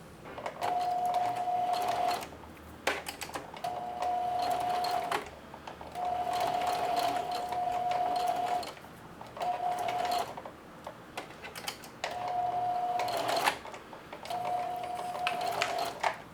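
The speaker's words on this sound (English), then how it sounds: "What I'm going to do now is straight stitch all the way down the length." A sewing machine straight-stitching apron straps runs in several bursts of a few seconds each, a steady whirring hum with rapid needle ticking, separated by short pauses and small handling clicks.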